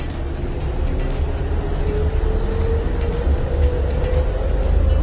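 A train rumbles steadily past through a residential area, a loud continuous low roar with a faint tonal whine rising above it and no talk.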